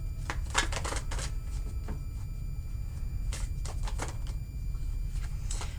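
Tarot cards shuffle and get drawn close by, with quick papery riffles and slides coming in bursts, some clustered and some isolated, over a low steady background hum.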